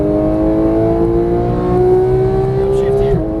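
Porsche 911 GT3 991 on a track day, engine revving under throttle with a steady, rising whine held close and loud, then an abrupt drop at a shift near the end, with a voice talking over it.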